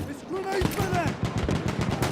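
SMG gunfire in Battlefield 1 multiplayer: a rapid close burst of automatic shots rattles under a player's voice, dense and continuous across the short stretch.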